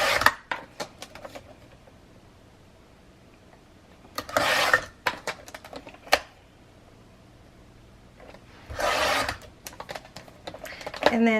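A paper trimmer slices chipboard into one-inch strips, giving two separate bursts of rough, scraping cutting about four seconds apart, close by in a quiet room, with lighter handling clicks and taps around them.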